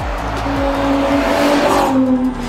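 A Ferrari Purosangue's 6.5-litre, 715-horsepower V12 holds a steady, loud drone with clear tonal whine, running continuously for the whole stretch with no talking.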